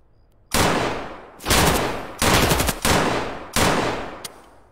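Gunfire in the video game Escape from Tarkov, heard as five loud, close bursts of automatic fire, each decaying briefly before the next, with no talking.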